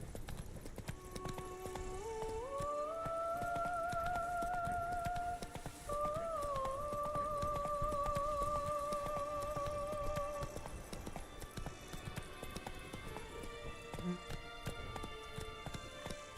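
Roach the horse's hooves clip-clop steadily at a gallop in The Witcher 3: Wild Hunt – Blood and Wine, a continuous rhythmic patter set against sustained musical tones in the background.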